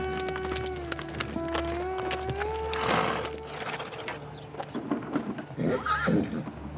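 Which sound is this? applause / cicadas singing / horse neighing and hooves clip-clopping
horse neighing and hooves clip-clopping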